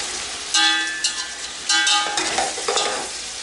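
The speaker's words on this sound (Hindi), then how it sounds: "और इसको अच्छे तरीके से मिक्स करके मीडियम आंच पे इसको फ्राई करती रहूँगी।" Tomato masala frying in a pot over medium heat, a steady sizzle broken by several loud scraping stirs of a spoon against the pot, close by and with no talking.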